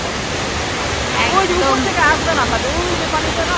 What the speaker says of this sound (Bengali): হ্যাঁ একদম পাহাড় থেকে আসতেছে পানিটা